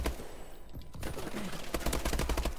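Hip-fire gunshots from a BAL-27 rifle in Call of Duty Advanced Warfare, rapid bursts of loud cracking shots that thicken into dense automatic fire toward the end, set against constant game background noise.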